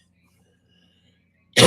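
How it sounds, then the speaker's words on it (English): After near silence, a single short, sharp cough bursts out close by at the very end. "Sorry, I got a bit of a cough still."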